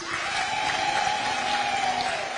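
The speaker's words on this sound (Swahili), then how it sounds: "Wale wa Trans Nzoia bebeni mikono tuwapigie makofi." A crowd at a political rally in Trans Nzoia County, Kenya applauds its local leaders, a continuous, dense patter of clapping heard alone for a couple of seconds.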